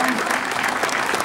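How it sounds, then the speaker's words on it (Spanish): Audience applause at a ceremony for a baseball field, a short dense burst of clapping from a nearby crowd. "Un aplauso también para mi tío Benito"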